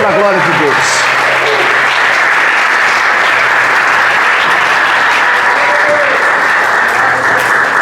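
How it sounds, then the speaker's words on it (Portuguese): Loud, dense applause from a congregation during a Portuguese-language communion service, steady and continuous, with voices and cheering mixed in throughout. "Pode aplaudi-lo para a glória de Deus."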